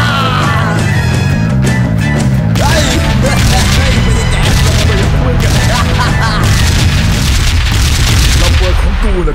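Team Fortress 2 Demoman bomb blasts in the video game, a loud dense run of booming explosions and crackling bursts sustained throughout, layered with a voice speaking Thai.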